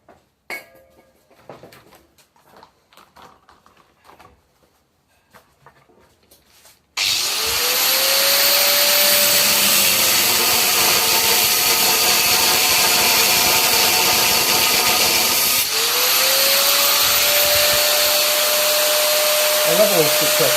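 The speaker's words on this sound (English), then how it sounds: "Back to the grinder." After some quiet clattering, an angle grinder spins up loud and close to cut off a rear axle shaft bearing on a Suzuki Carry DB52T, a sustained whining grind that briefly dips and revs up again.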